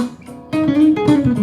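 Guitar playing a blues lick with a double stop, a brief phrase of a few plucked notes sliding into ringing two-note stops, close and clear with no talking.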